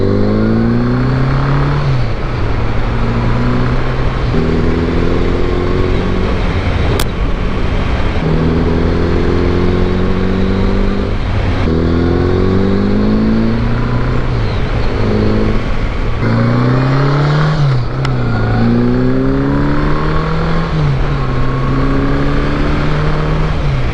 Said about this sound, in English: riding slow and really hearing that engine